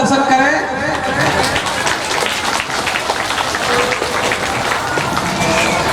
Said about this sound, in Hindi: आप लोग जोरदार तालियों से प्रभु का दर्शन करें